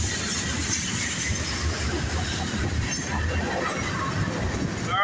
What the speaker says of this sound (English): there goes our southbound. Norfolk Southern, big freight.